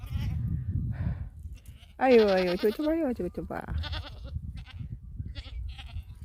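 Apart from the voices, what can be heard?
baby goat and mother goat bleating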